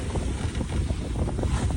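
Strong gusting wind of 20 to 25 knots roars across the microphone aboard a sailboat beating upwind off Hawaii, with rushing water and hull noise in a continuous loud, buffeting wash.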